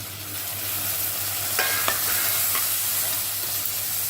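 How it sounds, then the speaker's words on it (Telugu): Thinly chopped tomatoes fry with softened onions in a steady, bright hiss, with a few faint spatula scrapes and clicks partway through. "టమాటో మగ్గేంత వరకు మనం ఫ్రై చేసుకోవాలి"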